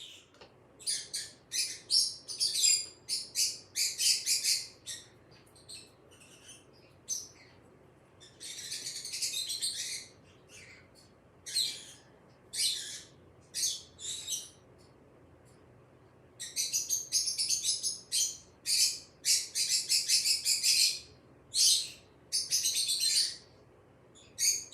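Birds chirp and tweet outdoors in repeated bright bursts of song, moderately close and fairly clear over a quiet background, with brief pauses between the calls.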